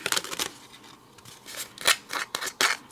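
Scissors snip through a paper cardmaking piece in a close series of crisp, uneven cuts, each short bright crunch spaced irregularly across a few seconds with no talking.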